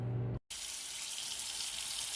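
Tap water pours steadily into a cooking pot holding two small roasts for pozole. A short cut breaks the sound early on, then the stream returns as a continuous bright hiss, close and alone.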